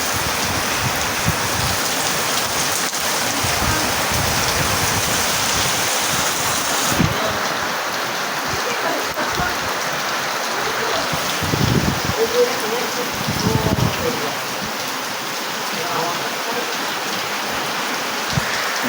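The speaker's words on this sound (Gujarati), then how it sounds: "ચાલુ થઈ ગયો વરસાદ પડે બહુ" Heavy rain pours down in a village, a dense continuous hiss with drops drumming on nearby surfaces throughout, and occasional faint voices beneath it.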